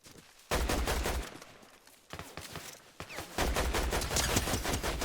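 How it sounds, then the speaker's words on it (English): Gunfire from the battle-royale video game Fortnite in Zero Build mode, loud bursts of rapid shots in two clusters with a brief lull between, sounding close and dense with no talking over it. "Unfortunate I missed every shot again on somebody wingsuiting."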